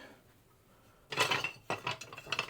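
Quick bread dough for a faux focaccia being stirred in a bowl, with a few scraping, clinking strokes of utensil against the bowl after a quiet start.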